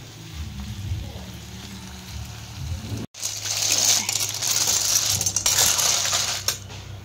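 Chicken frying in hot oil in a home kitchen, a loud steady sizzle that swells after a sharp break midway and carries on dense and crackling to the end.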